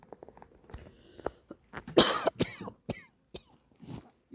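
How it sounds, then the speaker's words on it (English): A person coughs in a series of harsh, close bursts, including throat clearing, during a beekeeping session at a hive. "I'm just coughing"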